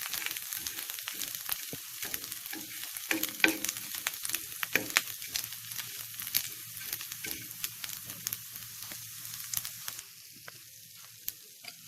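Dried prawns stirred and turned in a pan for a Kerala-style snake gourd thoren, giving a steady close sizzle with repeated scraping and clinking strokes of a spoon. The sound softens slightly near the end, and no one speaks.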